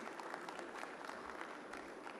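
A conference audience gives a dense, steady round of clapping to welcome a speaker to the stage, a full crowd sound heard faintly from a distance with no talking over it.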